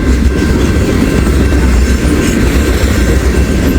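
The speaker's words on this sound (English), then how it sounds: "God, this is a monster train." A long freight train with tank cars and flatcars loaded with railroad ties rolls past close by, a steady loud rumble of wheels clattering over rail joints with no break across the whole stretch.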